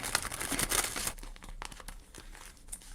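A paper surprise packet of collectible dragon figures is torn and crinkled open up close, loud dense rustling for about a second, then quieter intermittent crackles and rustles.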